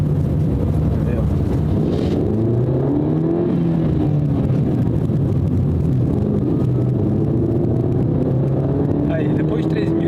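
Ford Fiesta S 1.5 with a 111-horsepower engine accelerating, its loud engine note rising in pitch under heavy wind and road noise from inside the car.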